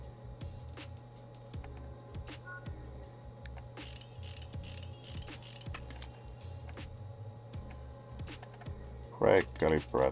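Mechanical clicks and ratcheting as a brake caliper is fitted in Motorcycle Mechanic Simulator 2021, with scattered taps, a burst of tool whirring in the middle and a louder clatter at the end, under a steady low hum and a talking voice.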